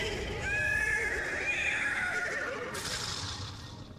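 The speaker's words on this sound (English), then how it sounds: "The horse is displeased." A horse in the video game Destiny 2 gives one long, drawn-out whinny that rises and wavers, close and clear over a low game ambience.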